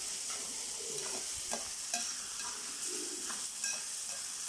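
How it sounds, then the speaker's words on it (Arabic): Chopped onions, bell peppers and garlic sizzling in hot oil and ghee for Egyptian mahshi, a steady frying hiss with occasional stirring scrapes and no one speaking. "هنزل دلوقتي بالبصل والفلفل والثومة، فرمهم مع بعض في الكبة"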